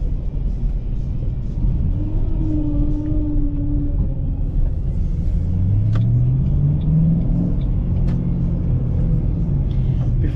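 A 2008 Ford Mustang GT Premium V8 rumbles loud and close with a deep, steady throb, its pitch sweeping upward as it revs, then easing off over about ten seconds.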